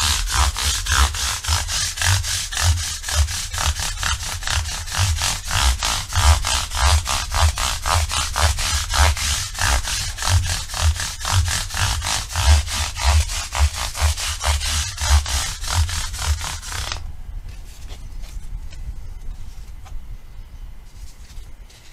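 120-grit sandpaper rubbed back and forth across threads on a BC Rich Mick Thomson Warlock Pro guitar, a steady rhythmic rasping scrape up close that stops near the end.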